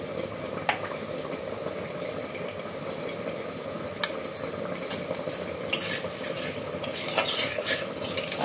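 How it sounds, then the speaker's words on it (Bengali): Bengali five-spice panch phoron and a dried red chilli frying in hot oil, giving a steady close sizzle with occasional clinks of a utensil against the pan. "ফোড়নটা ভাজা হয়ে গেছে তেলে।"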